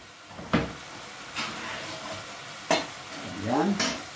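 Ground tomato being stirred in a pan, with a few distinct scraping strokes spaced a second or so apart over a faint sizzle, moderately close and without talk.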